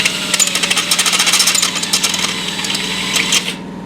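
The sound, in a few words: drilling sheet metal with step drill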